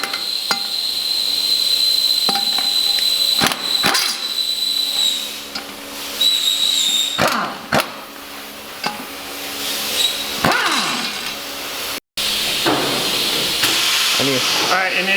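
An air impact wrench tightens bolts on a Chevy Express van spindle during a lift install, giving loud bursts of hissing, hammering rattle separated by brief pauses, close by, with no talking.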